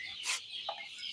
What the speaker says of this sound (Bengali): 100 দেশি মুরগি আছে